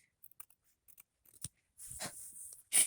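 Large fabric scissors snip through green fabric squares for a Halloween dress, a few quiet scattered clicks and then louder crisp slicing cuts up close.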